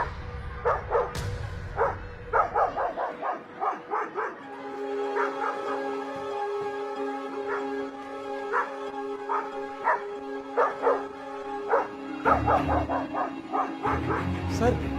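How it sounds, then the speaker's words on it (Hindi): Dogs that have got into a school bark and yip repeatedly, in quick clustered bursts spread through the whole stretch, mixed with a steady tonal music bed and some voices. "स्कूल में फिर से कुत्ते घुस गए।"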